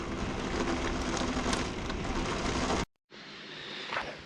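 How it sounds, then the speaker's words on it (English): Steady rain falls with a dense hiss, briefly cutting out for a moment before the rainfall resumes slightly softer. "It's raining again."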